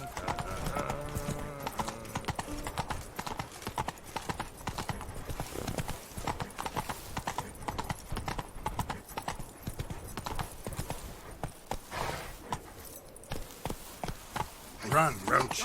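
Hooves of a galloping horse in The Witcher 3 pound in a fast, steady clip-clop rhythm, close and continuous, with game dialogue and music layered over them.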